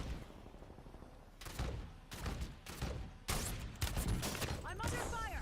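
Incoming gunfire in Call of Duty: Warzone Resurgence, loud, close volleys of shots arriving in separate bursts, each a few tenths of a second long, growing more frequent and sustained toward the end.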